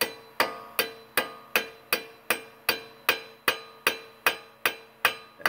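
A hammer taps a Toyota RAV4 front wheel bearing part into place with about fourteen evenly spaced, sharp metallic knocks. Each hit rings briefly, loud and close, and no voice is heard.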